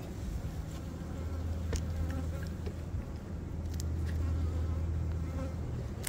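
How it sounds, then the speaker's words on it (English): Honey bees droning steadily in an open hive, a dense continuous buzz close to the listener, with a low hum underneath and a few brief knocks, no talking. "Definitely some more bees down here."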